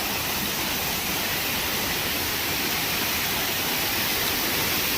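Phurlijharan Waterfall in Kalahandi pours as a dense, even roar of falling water that stays loud and unbroken throughout, with no other sounds standing out.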